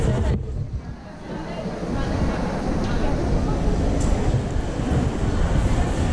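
Dense, steady crowd noise fills a crowded train station in Japan at night, a continuous rumble of many voices and movement without a clear single speaker.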